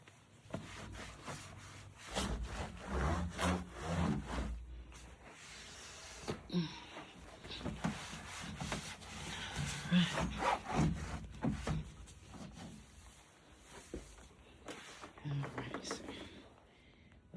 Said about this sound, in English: Get all this wiped down. With some nice bleach.